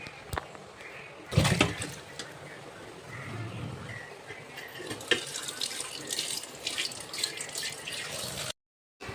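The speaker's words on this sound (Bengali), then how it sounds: "ভাতের ভাতগুলো ধুয়ে রাখতে হবে" Water runs and splashes at a kitchen sink while rice is washed by hand, with a continuous rushing flow. Sloshing surges and clattering bursts come from the rice and its vessel.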